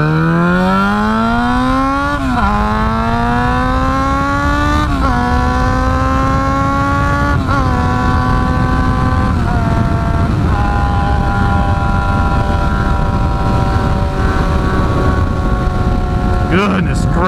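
A very loud car engine revs hard like a race car, with its pitch climbing through gear changes in repeated rising sweeps. The roar is continuous, close and dominant, with wind buffeting throughout.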